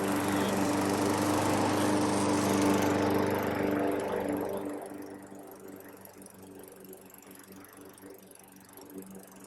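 Lawn mower engine running while mowing a residential lawn, loud and close at first, then receding into a steadier, fainter drone as the mower moves away.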